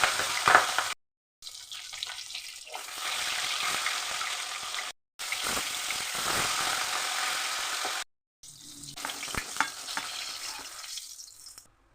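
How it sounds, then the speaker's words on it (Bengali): A katla fish head fries in hot oil in a wok with a loud, crackling sizzle. Short silent breaks split the sizzle into several stretches, with scattered pops and no speech. "কড়াইয়ে তেল দিয়ে দিলাম মাছের মাথা ভাজবো বলে।"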